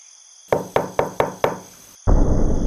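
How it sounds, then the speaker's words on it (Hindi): Five sharp, evenly spaced knocks on a hard door ring out against quiet, followed by a sudden burst of loud rumbling noise. "फिर बस के दरवाजे पर दस्तक होती है।"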